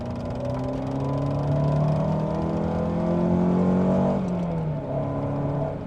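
A Honda CR-V's swapped TSX engine, six-speed AWD, in failing condition, hums steadily and swells as it revs up under acceleration, holding a loud, continuous drone that dips briefly near the end.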